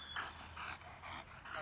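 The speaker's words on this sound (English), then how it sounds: "Dog's having a good time." A dog at bite work training pants in quick, steady breaths, close and fairly quiet, with several rhythmic bursts and no talking over them.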